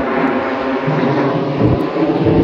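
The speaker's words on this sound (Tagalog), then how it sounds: "Ang ingay ng aeroplano, ano no?" Aircraft engine drone over a strawberry farm in Richmond, British Columbia, a steady, broad roar that holds loud and even throughout with no talking.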